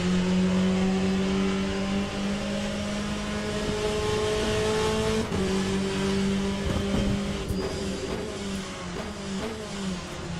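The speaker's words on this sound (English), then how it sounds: "The cars sound in tune, and they also have like so much depth to them." Race car engines in Le Mans Ultimate drone with a steady, loud note that holds tone and shifts slightly in pitch as the cars run on. The sound continues without a break and no one speaks over it.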